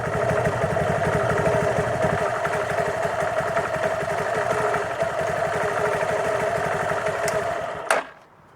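A motorcycle engine idles steadily while its oil warms up before an oil and filter change, a close, continuous mid-pitched drone with a faint clatter, ending in a sharp knock around the eighth second as the sound cuts away.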